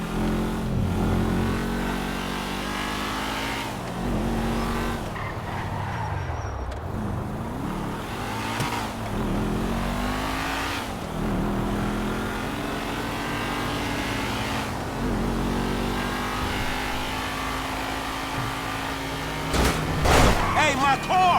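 A car engine in GTA V story mode revs hard and shifts through repeated rising and falling acceleration sweeps, loud and close, with a voice talking over parts of it.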